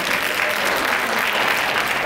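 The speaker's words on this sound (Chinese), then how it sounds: "既然鼓掌了嘛" A dense, loud wash of audience applause at a Chinese community Lantern Festival celebration in Connecticut, continuous clapping from many hands with no gaps.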